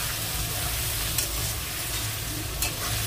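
Water spinach and potato stirred in a hot frying pan, a continuous loud sizzle with scraping spatula strokes and a couple of sharper clacks, close by.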